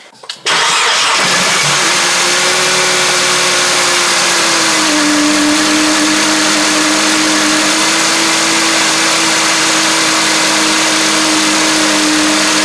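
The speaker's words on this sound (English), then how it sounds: "Try and start the car and see." Mercedes-Benz C180 W204 engine cranking and catching after drive belt tensioner and engine mount work, then settling into a steady, loud idle close by with a slight pitch drop partway through.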